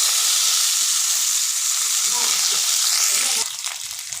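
Black pepper, ginger and coriander frying in hot oil in a pan for Karnataka hotel-style pongal: a loud, dense, hissing sizzle right up close that eases off suddenly near the end, with no voices.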